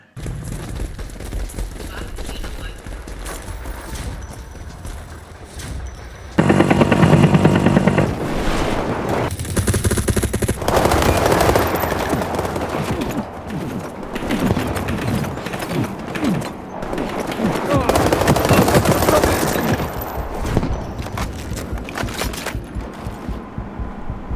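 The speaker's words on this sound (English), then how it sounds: "The gunshots sound awful, the explosions sound awful" Bursts of rapid gunfire and heavy booms from the video game World War 3 rumble on and off over a steady noisy backdrop, loud and dense, with some speech mixed in.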